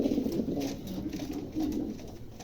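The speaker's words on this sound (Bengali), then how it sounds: "চমৎকার একজোড়া কবুতর আছে" A pair of Bukhara white-top pigeons coo close by, soft repeated throaty calls rising and falling in low bursts over a faint background, with no talking.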